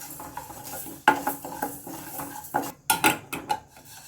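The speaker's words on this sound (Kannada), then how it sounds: "ಉದ್ದಿನಬೇಳೆ ಹುರಿದಿದ್ದೀನಿ" Urad dal dry-roasts in a pan while a spoon scrapes and stirs, giving irregular clattering metal clinks and rattling grains in short bursts, close and moderately loud, with no voices.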